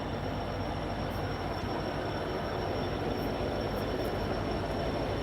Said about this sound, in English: Hopefully this train isn't too loud.